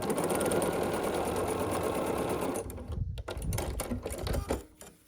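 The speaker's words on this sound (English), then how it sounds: "it's going to get sewn right on next to this one we just did in the same orientation as before." A sewing machine stitches a small half square triangle quilt block, a fast, steady mechanical whir for a few seconds, then slowing into separate clacks and stopping near the end.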